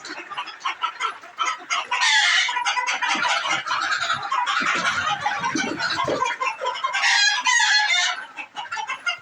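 A flock of laying hens and roosters on a chicken farm clucks and squawks continuously, dense and loud, with roosters crowing over the busy chatter of the birds.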